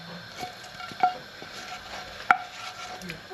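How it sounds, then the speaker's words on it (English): Sausages and a splash of oil go into a pan of sauce, giving soft sizzling and stirring with a few sharp clicks and scrapes of utensils against the pan, close and moderately loud. "all I'm going to do is I'm going to add in the sausages"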